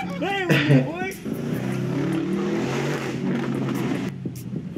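Widebody Lamborghini Urus exhaust burbling steadily on a cold engine, a loud continuous low rumble throughout, with a voice talking over the start.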